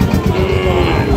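Sahiwal breed calves at a Friday cattle market, a loud close moo that holds a low droning tone for the whole moment.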